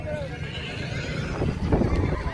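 A horse whinnies amid the bustle of a horse market in Faisalabad, Pakistan, with people talking nearby and faint hoof clip-clops in the background.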